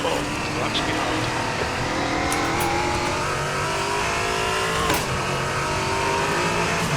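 Ford Mustang GT4 race car engine in a multiclass online endurance racing sim, droning steadily and loudly with shifting revs throughout, with a voice talking over it.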